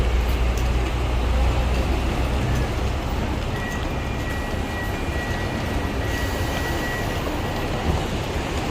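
Steady, dense street traffic on Nathan Road in Tsim Sha Tsui, Hong Kong, a continuous low roar of buses and cars passing close by, with a faint high whine partway through and no talking.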